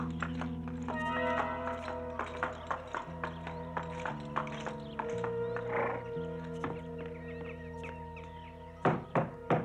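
Door knocking in a French animated children's series about D'Artagnan and the Three Musketeers: a steady run of hollow thuds, roughly one per second, over background music, ending in a louder cluster of knocks.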